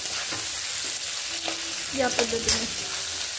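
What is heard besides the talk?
frying sliced onions in a pan for egg biryani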